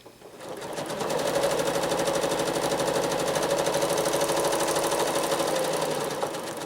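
A home sewing machine travel-stitching a small paisley echo quilting pattern, a loud close rapid mechanical whir that holds steady for several seconds, then eases off near the end, with no talk.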